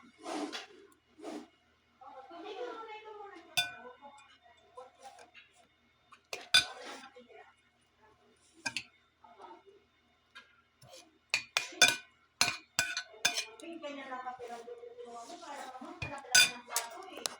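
Cutlery and plates clinking during a meal of crispy home-fried fish with vegetables, sharp close clinks and scrapes in irregular bursts, with a few short murmured remarks between them.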